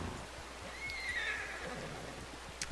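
A horse in Red Dead Redemption 2 gives a clear, drawn-out whinny over steady rain on the surface, with faint hoof clops and a sharp knock near the end.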